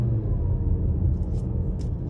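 A 2022 Mazda CX-5 engine hums under light throttle, a steady low rumble of the small SUV cruising on the road with no sharp revs, close and continuous.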